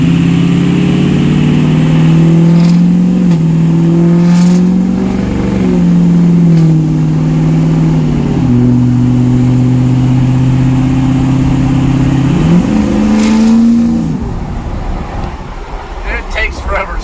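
A 6.0 PowerStroke diesel truck with its smoke switch on revs and holds a loud, steady droning tone that steps up and down in pitch as it spools, then drops off near the end, close and continuous.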